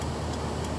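Indicator relay in a Peugeot 205, a faint, steady ticking heard alone for under a second against cabin background noise.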